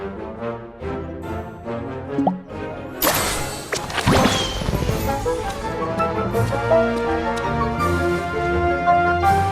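A punch knocking someone out in the Disney Magic Kingdoms game, with a sharp, loud whooshing impact striking partway through over ongoing orchestral game music.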